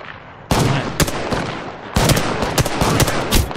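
Gunfire in Apex Legends, bursts of sharp cracking shots in quick irregular volleys with short gaps between, loud and close.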